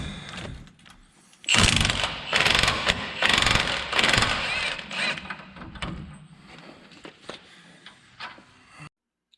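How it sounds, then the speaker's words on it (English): A ratchet wrench with a 21 mm socket works the drag link nut off the pitman arm of a Dodge Ram 2500/3500 heavy duty truck, giving close, repeated bursts of clicking that slow and fade toward the end. "using your 21 millimeter, going to take the nut off for your drag link that goes to your pitman arm"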